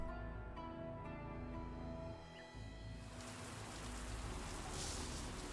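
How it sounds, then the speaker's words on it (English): Rain in the Path of Exile video game, a faint, steady patter of falling rain that grows a little denser partway through, with no talking. "I run around in the rain."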